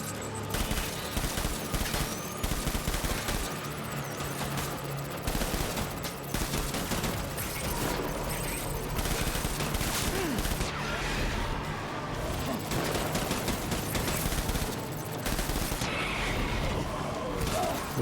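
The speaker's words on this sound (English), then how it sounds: "Stop shooting me!" Enemies firing at the player in the video game Death Stranding, dense bursts of rapid automatic gunfire and crashing impacts, loud and relentless across the whole stretch with no clear talk.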